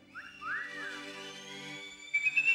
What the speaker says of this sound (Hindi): जो सीटियाँ बजा रहे थे एक बार फिर बजाइए.